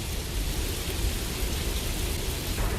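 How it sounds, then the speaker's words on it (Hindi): Heavy rain pours down as a dense, steady hiss, loud and unbroken across the whole stretch, with no voices over it. "बारिश तो बहुत बढ़ गई है।"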